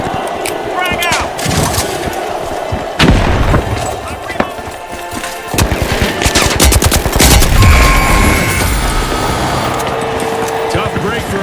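A frag grenade bursts amid rattling automatic gunfire in a video game, with sharp loud blasts and sustained bursts of shots, close and dense, under a voice.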